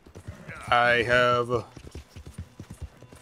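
A horse gallops in the Red Dead Redemption 2 video game, a rapid, even clip-clop of hooves running throughout, with someone talking briefly over the first half.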